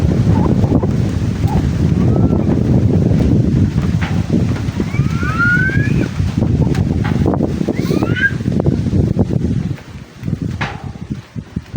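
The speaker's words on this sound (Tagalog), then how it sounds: "Grabe ang lakas ng hangin" Strong wind buffets the microphone in heavy continuous rumbling gusts, with a few faint bird chirps, easing briefly near the end.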